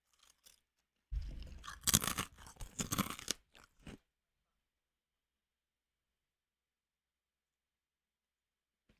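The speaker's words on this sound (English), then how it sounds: "Crunchy Chex Mix is yummy." Crunchy Chex Mix chewed close to the mic, a dense burst of crisp crunches lasting about three seconds, then near silence.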